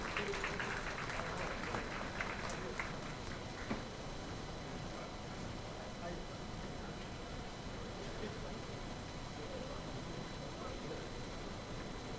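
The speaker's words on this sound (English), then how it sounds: "A big round of applause." Audience applause at a public welcome for a government minister during a business event in Nagpur, a dense steady clatter of clapping that fills the whole stretch, strongest at the start and holding on without talk.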